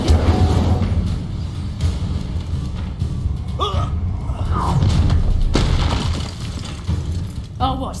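Incendio fire spell cast during combat in Hogwarts Legacy, deep booming blasts and thuds over a constant rumble, with brief crackling bursts layered among game voices.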